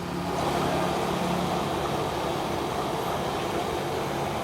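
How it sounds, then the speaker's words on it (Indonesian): An electric water pump runs with a steady, loud mechanical hum and rumble, constant from start to finish with no voices. "Oke, pompa nyala."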